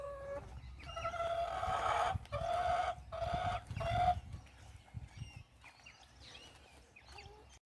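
Backyard chickens kept in a small space cluck and call in bursts while scratching and digging, close and moderately loud, with scuffing ground noise between calls.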